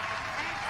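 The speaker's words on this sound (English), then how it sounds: "Do the applause thing." An applause emote plays during a GTA NoPixel 4.0 roleplay session, giving a dense, steady clapping wash for its whole short length with talk mixed in underneath.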